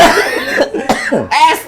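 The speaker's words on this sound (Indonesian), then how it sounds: "Begini nih batuk nih." Three close, harsh coughs from a man in a podcast studio, loud and near, each burst rough and breathy with short gaps between.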